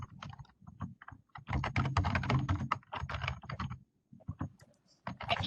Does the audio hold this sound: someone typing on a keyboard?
yes